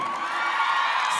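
A live concert crowd at a show cheers in a brief, steady roar, loud and sustained without a break.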